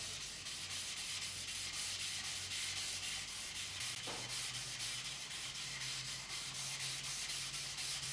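A scraper blade's edge is rubbed back and forth on a sharpening stone in a steady stream of close, gritty scraping strokes, with a low hum underneath.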